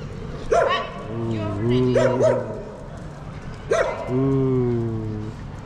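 Four dogs give a few close barks and yips with whiny, tonal howling between them, while people talk in the background on a seaside promenade in Blackpool.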